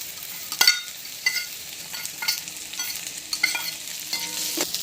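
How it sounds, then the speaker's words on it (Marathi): Okra tossed into a pan of onions and green chillies already frying, giving a steady close sizzle broken by several sharp scraping stirs of a spatula. "आता मी त्याच्यात भेंडी टाकून देते।"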